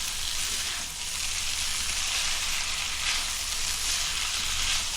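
Chicken saroley being stirred and fried in ghee over a gas flame, a loud, continuous sizzle with crackling spatter and faint stirring, close and steady.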